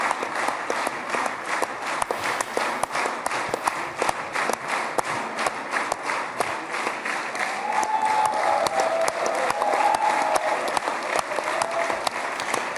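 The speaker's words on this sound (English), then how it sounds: "And a clap for Keir Starmer" A large crowd at a live event in Israel marking the hostage release claps steadily, sustained dense applause of even loudness that continues throughout, with a few faint voices calling out underneath.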